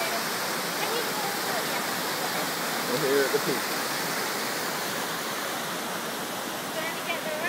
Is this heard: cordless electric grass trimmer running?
no